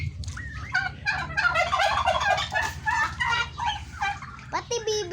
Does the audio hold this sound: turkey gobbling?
yes